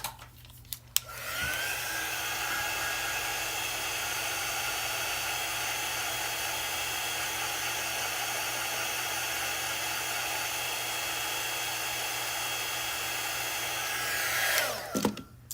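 A hair dryer blows steadily on a craft sign, a loud, continuous close-up whoosh that clicks on after about a second and runs unbroken for roughly fourteen seconds before switching off, with no talk.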